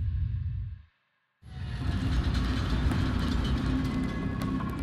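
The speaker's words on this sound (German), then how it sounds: "Das habe ich jetzt nicht kommen sehen, dass da noch ein Zug kommt gerade." A train rushes past in the video game Killzone: Shadow Fall: loud, steady rumbling and clattering that cuts out briefly, then returns at full strength and holds, with no talking.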